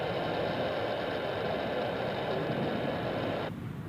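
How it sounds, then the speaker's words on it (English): A Helvetic Embraer 190 E2 flying for Swiss arrives at Zurich Airport, its jet engines giving a steady, broad roar heard from a distance that holds constant before easing slightly near the end. "Swiss, Helvetic flying for Swiss from Frankfurt with a Embraer"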